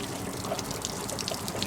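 Water drains from a hot water tank in a steady rushing gush, with small trickles and drips breaking through a continuous liquid flow, and no speech.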